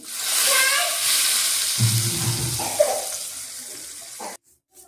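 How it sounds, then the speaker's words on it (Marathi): Spices for tempering hit hot oil left from frying gulab jamun and sizzle loudly and close, with a bubbling crackle and some clatter, then cut off abruptly near the end. "ही फोडणी टाकून घेऊ आपण."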